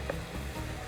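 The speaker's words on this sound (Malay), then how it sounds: "Okey, kita teruskan menggoreng paste dia." Puff pastry dough paste fries in a pan with a faint, steady sizzle that stays low and continuous throughout.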